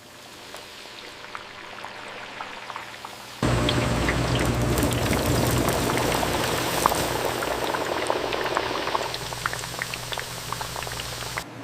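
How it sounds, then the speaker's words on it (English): Banana slices sizzle and crackle in hot oil at a factory frying station, the bubbling jumping louder after a few seconds and then holding steady and close. "The frying process begins at the oil heating station."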